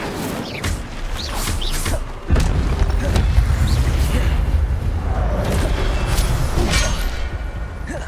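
A fire spell cast repeatedly in the PS5 wizarding game Hogwarts Legacy, giving loud whooshing bursts and booming flame blasts layered over dense game effects and rumble, with a heavy impact near the middle.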